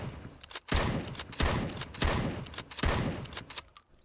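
Four loud, sharp shotgun blasts in the video game Road to Vostok, each followed by a ringing tail and brief reload handling, evenly spaced about two-thirds of a second apart.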